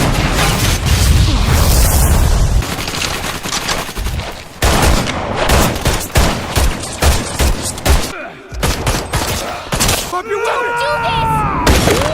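Rapid bursts of 909 handgun gunfire in Resident Evil 6, with loud sharp shots in quick succession, heavy booms early on, and in-game voices and effects mixed in.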